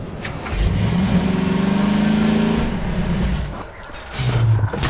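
A car engine in Half-Life 2 starts and revs, a loud mid-pitched drone that climbs and holds, fades briefly, then surges again near the end, with no talking over it.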